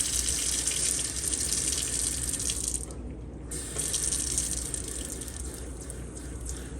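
Hot water runs from a kitchen tap into a sink as a steady hiss and splatter, briefly interrupted once before resuming, close by with no voices.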